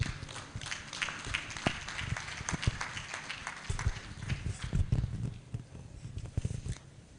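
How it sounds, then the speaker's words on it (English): Audience members at a conference event applaud in scattered, irregular claps that sound fairly faint and distant and keep going for several seconds, with some low background murmur. "Please, another round of applause for Mr. Kimbola George"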